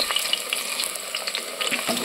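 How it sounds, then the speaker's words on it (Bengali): Potatoes frying in a pan of hot oil give a steady close sizzle scattered with small crackles and pops, with no voices over it. "আলুগুলো ছেড়ে দিয়েছি, এবার একটু ভাজা ভাজা করে নেব আলুগুলো।"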